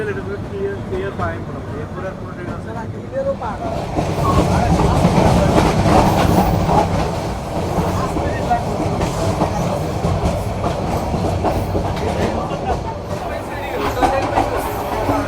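Cox's Bazar Express passenger train running on rails, a steady loud rumble with rhythmic clickety-clack of wheels over joints throughout, swelling slightly midway, with faint voices inside the carriage.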